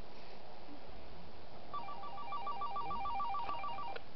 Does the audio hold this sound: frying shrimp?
no